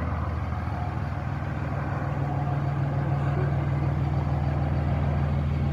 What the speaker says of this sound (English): Hold on, this big ass truck right here.